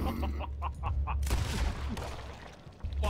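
Rapid bursts of video game gunfire, a quick run of evenly spaced shots followed by denser overlapping firing and booms, with players talking over the action.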